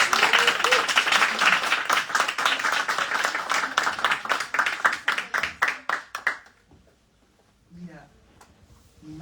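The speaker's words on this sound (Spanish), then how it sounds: "te doy el aplauso de parte de este público que ha podido disfrutar" An audience at a Spanish-language book presentation claps steadily for about six seconds, dense and fairly close, and the clapping then fades into quiet room sound with faint movement.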